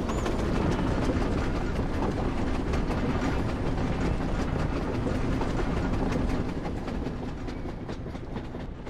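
Roller coaster ride in Farming Simulator 22, a steady loud rumble with rattling, clickety-clack track noise running throughout, easing slightly toward the end.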